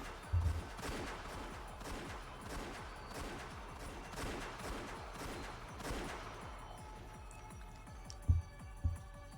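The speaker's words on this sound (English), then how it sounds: "As soon as I heard the sound of repeated gunfire, I knew." Repeated gunfire sound effect from the Umineko When Seagulls Cry visual novel: rapid, evenly spaced shots in a sustained burst for about six seconds, then a quieter tail with a couple of isolated sharp shots.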